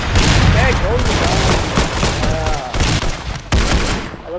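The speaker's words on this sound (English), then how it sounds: "I love getting kills with a golden gun." Golden gun fire in the Roblox game Arsenal, a dense, loud burst of rapid shots with booming impacts and game effects, continuous throughout, with some voice mixed underneath.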